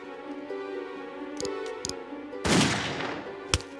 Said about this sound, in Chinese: 高廷，我是警察，为了维护法律，阻止你杀人，我必须开枪。